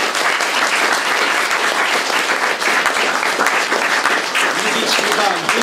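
A studio audience applauds guests at a book discussion, dense steady clapping that stays loud and even from start to finish.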